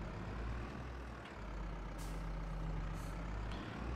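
Truck braking in Farming Simulator 22 on a steep downhill lane, with a steady low engine rumble and two short hissing air-brake bursts midway.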